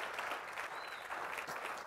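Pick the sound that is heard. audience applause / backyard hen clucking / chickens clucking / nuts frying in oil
audience applause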